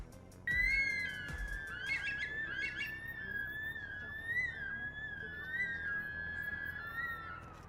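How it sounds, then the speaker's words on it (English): A long, eerie whistle stands alone, quiet and drawn out for several seconds with gentle wavering pitch, matching a curlew's call; it opens with a short thump. "the song of the curlews."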